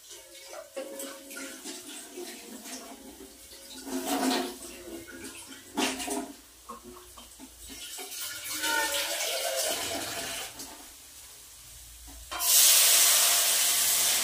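Lots of water poured into a cooking pot, splashing and hissing in uneven bursts, rising to a louder rush near the end.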